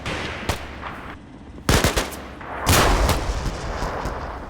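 Gunfire in the video game Combat Mission Cold War as troops pour fire into a lodge: several sharp bursts and rattling volleys, with the heaviest cluster near the middle and a louder sustained burst toward the end, no talking.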